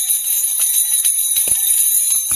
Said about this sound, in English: I'm just going to let you hear the bells.